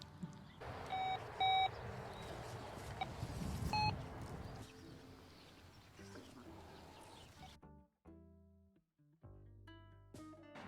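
A metal detector sweeps bulldozed, disturbed ground beside a new fence while searching for a geocaching trackable, giving a few short, bright electronic beeps early on over outdoor background noise, before the scene quiets.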